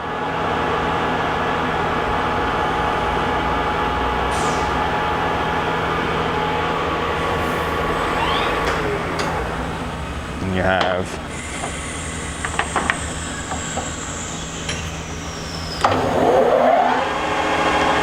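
A Southwestern Industries TRAK 1745P CNC lathe spindle hums steadily with a low, constant drone as it runs at different speeds. Clunks and rising whines come in the second half, and someone speaks briefly.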